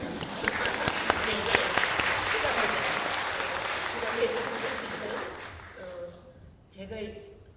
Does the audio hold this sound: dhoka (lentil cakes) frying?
no